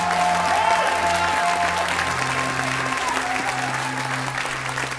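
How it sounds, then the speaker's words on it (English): A church congregation claps their hands in worship, steady dense applause filling the room throughout, with held tones and voices rising underneath. "And everybody clap your hands unto the Lord and shout unto Him with a voice of"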